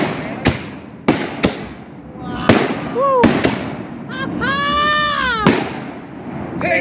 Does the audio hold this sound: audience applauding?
no